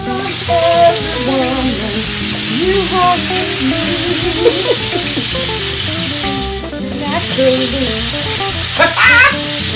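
Salmon fillets fry in a skillet with a loud, continuous sizzle and spatter, close by, while a voice hums or sings along over the cooking.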